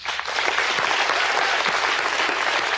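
A studio audience at a televised talk show claps in a dense, steady burst of applause that fills the whole stretch at an even level, with no talking over it.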